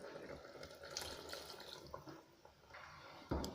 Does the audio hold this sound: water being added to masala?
yes